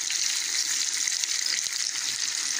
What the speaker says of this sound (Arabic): البصله دي تحمر جامد، تحمر جامد